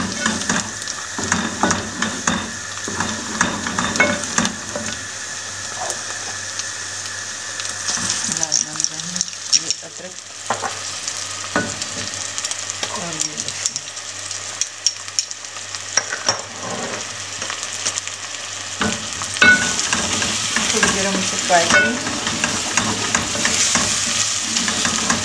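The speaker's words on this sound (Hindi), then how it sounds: "बस अब हम इसमें लहसुन और अदरक मिलाएंगे।" Garlic and ginger sizzling in hot oil in a pan while being stirred, steady frying hiss with scraping strokes, someone talking over it at times.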